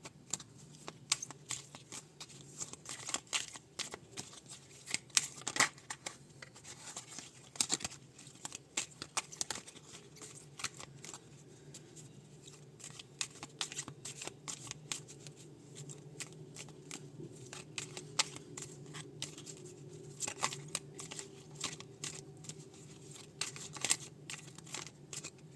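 Tarot cards riffle and rustle in quick, soft bursts through a reading, the faint papery flutters repeating irregularly over a quiet room hum.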